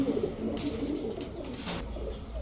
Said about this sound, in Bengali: এক জোড়া খাকি কবুতর, দুধখাকি কবুতর